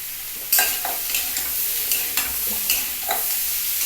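Tomatoes and kundri (ivy gourd) frying in a pan, with a steady sizzle broken by a series of sharp spatula scrapes and stirs at irregular intervals, close up.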